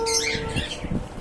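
Birds fly overhead in Qatar, giving sharp overlapping squawks and chirps close by, with a few low flutters mixed in.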